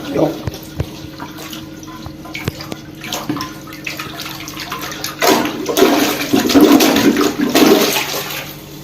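A clogged toilet being flushed, first faint drips and knocks, then a loud rushing gush of water that churns and slowly drains away, close up in a small bathroom, with someone speaking briefly.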